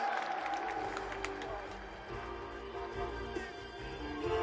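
A festival audience claps and cheers steadily in a large crowd at a Korean awards event, a dense wash of applause filling the whole stretch.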